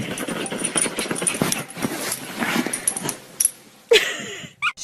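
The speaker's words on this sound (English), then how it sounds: "A frustrated dog." A frustrated dog whimpers and whines in short, uneven bursts close by, with a few sharper yelps near the end.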